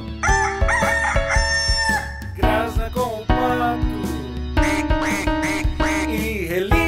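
Rooster crowing woven into a Brazilian children's song, several loud cock-a-doodle-doo calls rising over continuous music with no talking.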